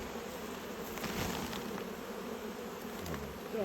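Honey bees buzz steadily around a hive during a honey harvest, forming a continuous, fairly close drone with no talk over it.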